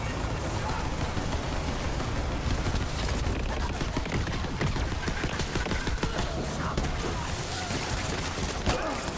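Rapid gunfire in the video game Borderlands 3: dense, continuous bursts of automatic shots and thuds filling the whole stretch, loud and chaotic with little pause, a voice faintly underneath.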